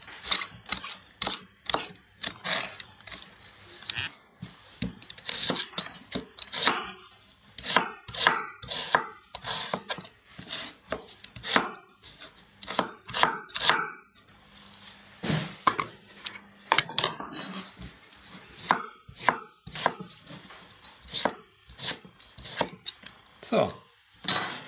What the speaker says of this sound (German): Als erstes schneiden wir die Petersilie.